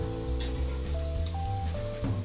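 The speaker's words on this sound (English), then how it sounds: "so you have to fry it really quickly" Pate kode, already cooked inside, frying quickly in hot oil, a steady close sizzle with a faint hum and light clicks running through.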